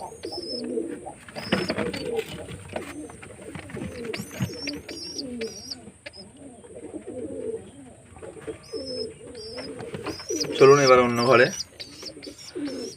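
Adult pigeons in a loft coo in low, repeated rolling calls close by, with some chirps and a brief flutter of movement, while a person talks over them.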